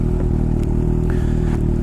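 Kawasaki Ninja H2 motorcycle engine running steadily and close by, a loud low rumbling drone with some clatter and no speech.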